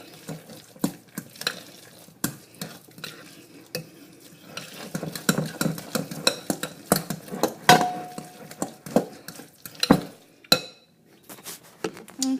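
Lasagne ingredients stirred in a dish, with a run of scraping strokes and light clinks of a utensil against the dish, close and uneven in rhythm, with no talking.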